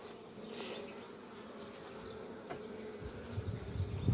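Honey bees buzz steadily in an opened hive during a colony merge check, a close, continuous droning hum that swells slightly louder toward the end, with no talking.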